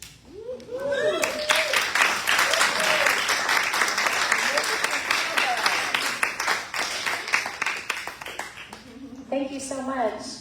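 An audience at a school board event applauds the trustees with steady, sustained clapping. Voices and cheers rise through it, and the clapping thins out toward the end as talk takes over.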